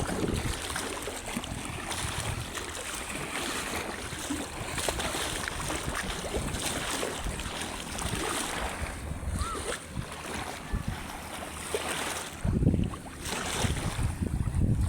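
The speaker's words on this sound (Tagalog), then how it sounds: "Kusog kayo bawod." Strong sea waves rush and churn continuously with heavy wind buffeting, a loud surging roar of rough sea, with a faint voice now and then.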